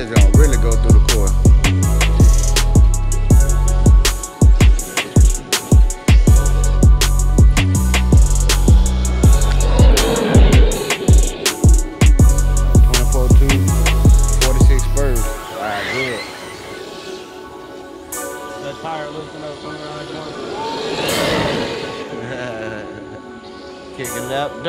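Traxxas Xmaxx 8s RC truck on a dirt offroad track at a raceway, its motor whining in loud bursts and revs with sharp chopping pulses, then fading to a quieter, more distant whir as it tears around the course.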